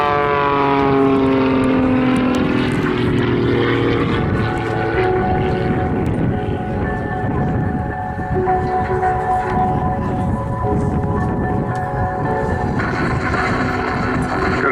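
A Pitts Special SC-6 aerobatic biplane performing at the Southport airshow in 2019, its propeller engine droning loudly and continuously, rising and falling in pitch as it manoeuvres overhead, with no talking.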